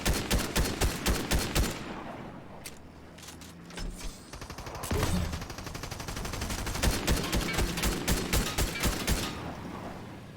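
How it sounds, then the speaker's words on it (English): Rapid bursts of automatic gunfire in a Fortnite match, sharp repeated shots in loud volleys with a brief pause midway, then resuming at a steady rhythm. "I hope that's you shooting at him."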